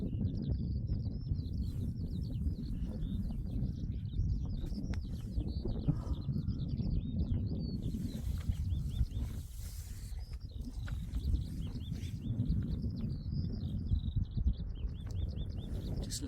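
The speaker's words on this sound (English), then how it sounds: "Just listen to those birds." Birds sing outdoors in a repeated chorus of high, rapid chirps and warbles, steady and moderately close over a constant low rumble of background noise, with no talking.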